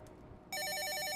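An in-game telephone in a horror dating game starts ringing abruptly, a loud, steady electronic ring that continues without pause after a moment of quiet.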